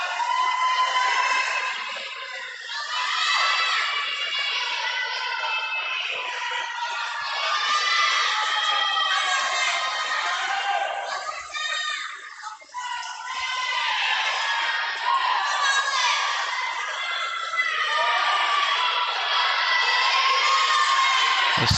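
Crowd at a swim meet cheering swimmers on, a sustained mass of shouts, whoops and children's yells that swells and dips, close and loud throughout.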